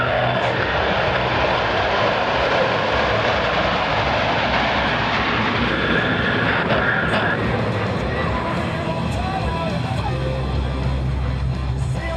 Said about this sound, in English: From the right, at 356 miles per hour, the Blue Angel echelon through.